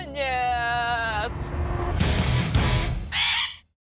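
Harsh, raspy squawks from a parrot in a pet shop, a long buzzing call followed by several loud cries, with people talking excitedly underneath.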